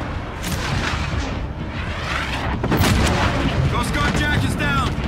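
Gunfire from a PC tactical military shooter set around shipping storage, dense rapid bursts and booming shots crackling continuously and loudly, with radio-style voices calling out in the mix.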